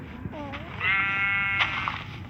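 A Minecraft sheep lets out one drawn-out, wavering bleat, close and clear, just after a brief voice sound, over quiet background hiss.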